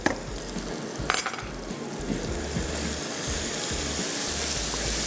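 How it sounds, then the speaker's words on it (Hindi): Masala of tomato, turmeric, ground red chilli and garam masala powder frying steadily in a pan, with continuous sizzle and occasional stirring scrapes, no talking. "खूब अच्छे से मसाला भून लेंगे।"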